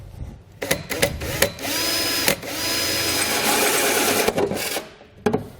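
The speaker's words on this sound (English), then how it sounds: "we're going to take a 2 1/8 inch hole saw as the instructions specify" A power drill with a 2 1/8 inch hole saw grinds steadily through a truck bed panel of a 2017 Ford F-350, loud and close, with short starts and stops and a high whine.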